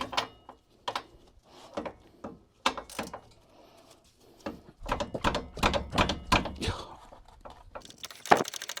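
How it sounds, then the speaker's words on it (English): A short ratchet undoing a small, tight, fine-threaded bolt in a tight spot behind a component during a repair on a 453 EQ, heard as bursts of clicking and mechanical rattles with pauses, close and moderately loud. "you're going to need a short ratchet and then 18, just be able to get behind there. Make sure it's undoing"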